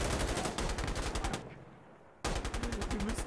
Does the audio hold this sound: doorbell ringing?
no